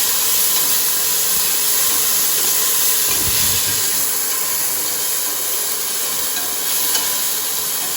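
Ginger garlic paste sautéing for a Jaffna-style crab curry produces a loud, dense hissing sizzle that stays nearly constant throughout, close up and without any voices.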